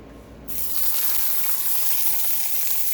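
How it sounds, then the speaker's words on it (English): An El Milagro corn tortilla, dipped in sauce, hits a hot oiled pan and bursts into a loud, steady sizzle after a brief quiet moment, close and continuous. "And then straight to our pan."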